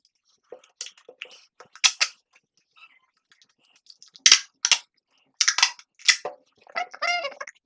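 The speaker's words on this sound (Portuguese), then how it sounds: "Eu vou só passar uma fita para em seguida botar no envelope." Tape is pulled and pressed onto a small cardboard package in short, sharp bursts of crackling and ripping, close by and separated by brief pauses.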